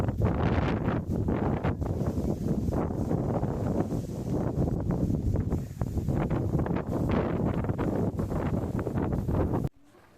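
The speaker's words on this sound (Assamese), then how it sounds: "সেইকাৰণে আজি ইমান বতাহ দি আছিলে" Strong wind sweeps across a mountain peak in Dima Hasao, Assam, roaring continuously into the microphone with heavy buffeting gusts for about ten seconds, then stopping suddenly.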